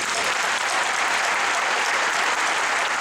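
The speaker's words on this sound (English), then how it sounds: "I ask you to join us in a round of applause to thank all of our staff volunteers" Applause fills a commencement ceremony for a college of agriculture, a loud, even, unbroken roar of many hands clapping from start to finish.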